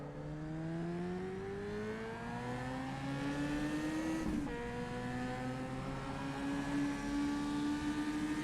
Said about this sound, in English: This car, you definitely have to blip the throttle.